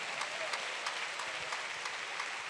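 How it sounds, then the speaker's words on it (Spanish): A church congregation claps during a Spanish-language sermon, producing steady, dense applause with a few sharper individual claps standing out over roughly two and a half seconds. "Si va a aplaudir, aplauda fuerte para el Señor."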